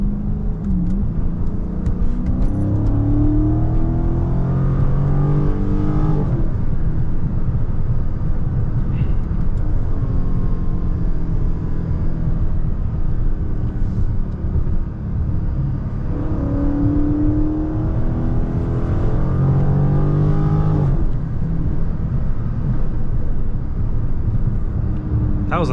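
A Dodge Charger Scat Pack Widebody accelerates hard, its engine note climbing steadily in long pulls with a brief easing midway, loud and close throughout over constant road and cabin noise.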